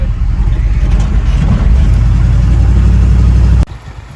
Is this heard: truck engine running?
yes